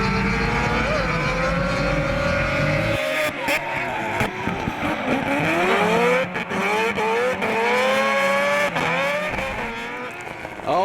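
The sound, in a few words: Mad Mike Whiddett's 26B quad rotor drift car engine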